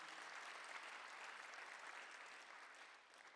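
A church congregation applauds during a Sunday worship service, producing a steady, dense wash of clapping from many hands. It sounds fairly distant and soft and stays even for the whole stretch before easing slightly at the end.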